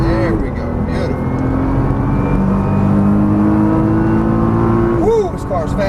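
A Nissan GT-R's engine pulls hard on a race track, the note rising steadily as it accelerates, with a person talking over the loud, continuous drone.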